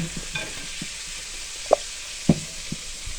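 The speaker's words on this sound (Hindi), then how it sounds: "इस तरह हम इसको हल्का सा फ्राई कर लेंगे" Burger buns fry lightly in a pan with a soft, steady sizzle, broken by a few sharp knocks from a utensil against the pan, close and fairly quiet.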